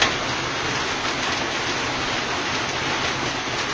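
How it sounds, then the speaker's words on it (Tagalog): Heavy rain pours steadily outside a house in the early morning, a dense, even hiss that holds constant for the whole stretch with no voices. "Ang lakas din ng ulan, May."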